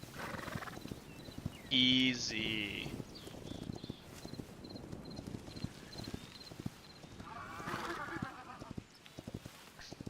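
A horse neighs loudly among scattered hoof clops and faint game sounds from the video game Hytale, with a person speaking briefly.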